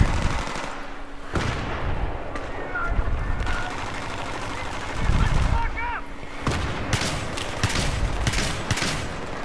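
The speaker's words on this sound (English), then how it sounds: "these frag rounds are pretty damn cool. Because they explode." A Saiga 12K shotgun fires exploding frag rounds in a Battlefield 3 team deathmatch, sending loud booming shots and bursts of gunfire across a dense, constant battle din, with distant firing throughout.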